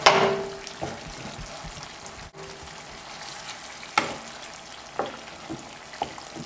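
Potato and onion frying in olive oil for a Spanish tortilla, a sharp sizzle at first settling into a steady bubbling hiss, punctuated by a few metallic knocks and scrapes as pieces are lifted out, close with no talk.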